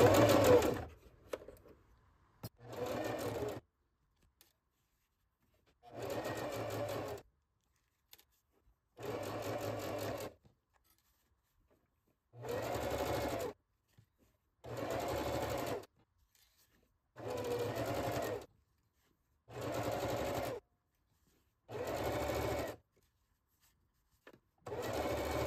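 A sewing machine stitches patchwork squares into a strip for a zipper pouch, running in about nine separate bursts of steady whirring, each a second or two long, with short quiet pauses between, close and alone.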